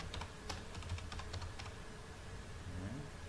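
Quick bursts of computer keyboard typing, several close crisp key clicks in the first half before the keys fall quiet over a steady low hum, as a first and last name are entered into a Java program's input prompt.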